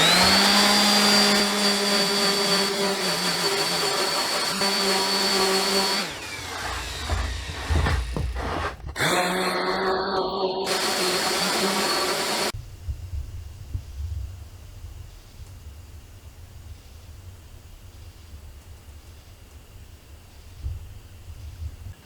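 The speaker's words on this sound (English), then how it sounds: "head on over to the power planer and get this done." A power planer running loud and steady with a high whine, then end grain cutting board stock fed through it for a rough, uneven planing pass of several seconds, after which the machine winds down into a low, quieter hum.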